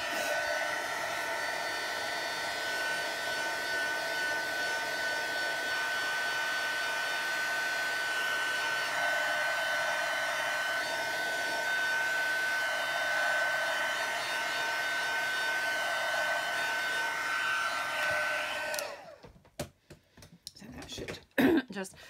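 Heat tool blowing over a wet handmade card, a steady loud whirring hiss that runs for most of the stretch before cutting off, followed by a few light handling knocks.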